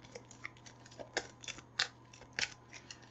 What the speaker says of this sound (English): I'm going to shuffle up the discard pile, just like any other deck builder